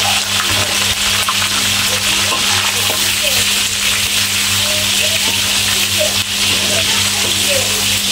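Lemongrass stalks and sliced onion sautéing in leftover chicken frying oil, a steady broad sizzle holding evenly throughout, close and continuous, with a low hum underneath.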